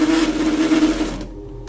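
3D printer stepper motors whirring loudly through a fast direction reversal, with a steady tonal hum for about a second before the motion cuts off and the noise drops.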